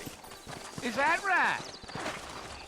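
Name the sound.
horses' hooves in video game Red Dead Redemption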